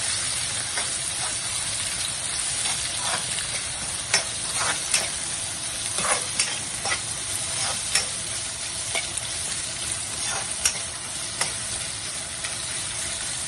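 Shredded cabbage and carrot stir-fry in a hot pan for chicken egg noodles, with a steady sizzle and repeated sharp clicks of a spatula scraping and tossing, close and alone.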